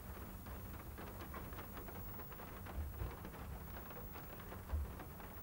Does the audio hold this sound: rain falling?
yes